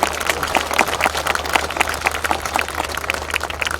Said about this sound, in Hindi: अरे इतने सारे लोग, इतनी तालियां बजेगी क्या?